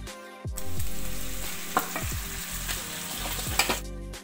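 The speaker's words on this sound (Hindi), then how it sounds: "बर्तन में बघा रही हूँ दाल।" Dal is tempered in a clay pot with onions and a little water, sizzling loudly and continuously up close while a utensil scrapes and taps against the pot a few times.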